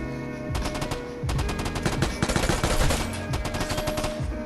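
Rapid automatic gunfire rattles in a third-person shooting video game, dense bursts of shots with brief gaps, loud and close throughout.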